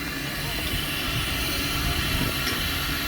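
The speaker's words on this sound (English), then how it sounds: "And that's our train." A steam train on the Welshpool & Llanfair Light Railway, a continuous broad rumbling hiss heard close by in a cold, wet setting, steady throughout with no clear breaks.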